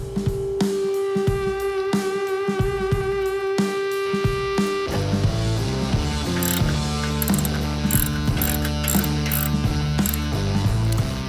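A ratchet loosens the muffler nuts on a Milwaukee 8 Softail Fat Bob motorcycle, with rapid, loud, close clicking of the pawl through steady repeated strokes and dense metallic ticking over a droning tone, with no talking.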